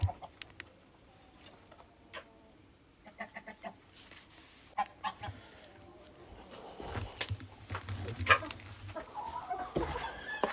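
Chickens cluck and squawk in scattered bursts on a farm with geese, growing busier and louder toward the end, with faint background noise between calls.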